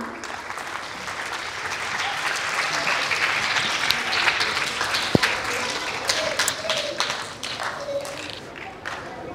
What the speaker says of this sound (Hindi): आपकी भरपूर तालियों में नौनिहाल ज़ुखरुफ़ इमरान।